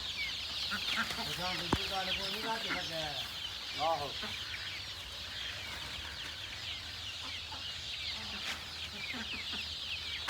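Chickens cluck in a busy poultry flock at a 400-bird chicken business, with repeated clucks early on over constant chirping and farmyard noise. Pigeons are around the birds.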